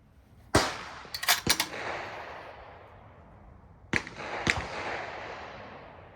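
Rifle shots from a load-development test with 33 grains of Varget powder and a 2.6 overall cartridge length, a sharp crack followed by a quick cluster of reports, a pause, then two more bangs, each ringing out with a short echo.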